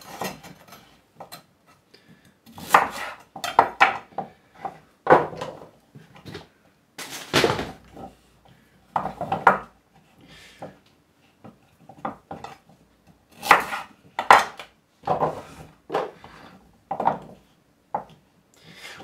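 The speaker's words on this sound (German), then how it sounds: "schneiden wir die Möhren in Viertel" A knife cuts carrots into quarters lengthwise on a board in a home kitchen: a series of sharp, close chopping knocks in an irregular rhythm, some single and some in quick pairs, with quiet pauses between.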